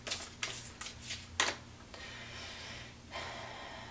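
Tarot cards shuffled and drawn by hand: a run of quick papery riffles and flicks, close and fairly soft, followed by a steadier rustle as a card is pulled, with no talk.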